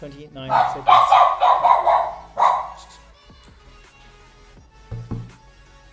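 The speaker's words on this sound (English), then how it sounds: "That's my dog." A dog barks excitedly indoors during a live home fitness workout, a quick run of several loud, close barks followed by a single later bark, with a person speaking briefly.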